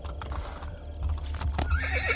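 Horse in the video game Assassin's Creed Brotherhood galloping, with steady clip-clop hoofbeats and a whinny near the end, loud and close with no talk over it.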